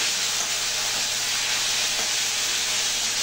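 Potato pieces seasoned with salt and turmeric fry in oil left over from frying paneer, giving a steady, close hiss and sizzle that stays constant throughout.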